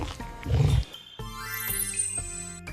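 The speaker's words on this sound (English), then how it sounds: "This is a tiger." A tiger gives a short, deep growling roar up close, followed by a brief musical tone and fading background music.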